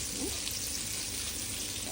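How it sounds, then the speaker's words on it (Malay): Steady, dense sizzling of flour-coated chicken frying in hot oil over low heat, a constant crackling hiss close by with no voices. "nak goreng ayam tu"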